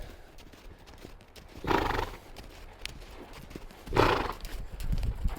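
A horse circling on a lead during liberty training whinnies twice, a few seconds apart, over soft hoof clip-clops and faint background noise.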